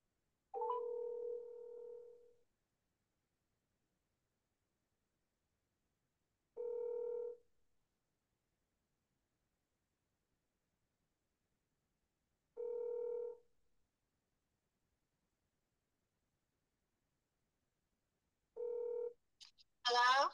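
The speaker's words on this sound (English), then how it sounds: "to be able to talk knowledgeably with Diane if she answers the phone." A real estate agent's outgoing phone call: a ringback tone sounds four times at steady intervals of about six seconds, clear and alone, before a voice picks up right at the end.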